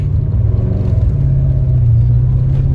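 A 1982 Porsche 928 engine pulls in first gear with a steady, loud low rumble, stumbling at low RPM, close and continuous throughout with no talk.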